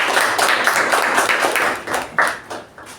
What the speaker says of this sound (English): a round of applause to Toastmaster Deepa and Toastmaster Dharmender